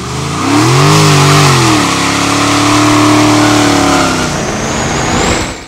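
A Dodge Challenger Scat Pack's V8 revs hard and rises in pitch as the tires spin with traction control eased, the loud engine note holding near and steady before tire noise takes over.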